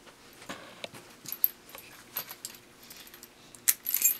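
Metal handcuff chain rattling and clinking as it is wrapped around and cinched against a high-security transport box, with scattered close jingles and small metallic taps ending in a brighter rattle.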